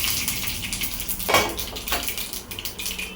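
Mustard seeds and cumin going into hot oil in a pan while cooking South Indian food, a bright hissing sizzle with a sharper burst as the seeds drop in, close and alone without talk.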